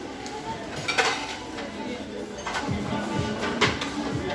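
Ceramic bowls and plates handled on a shop display, with scattered close clinks and knocks of crockery over a low room murmur, a few sharper chinks standing out.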